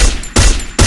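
Three loud bursts of gunfire spaced about 0.4 seconds apart in a first-person shooting video game where a Kar98 rifle is in use, close and sharp with no talking.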